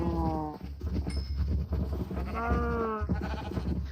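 Minecraft sheep bleat in short wavering cries, several overlapping calls in quick succession, loud and close, with no talk over them.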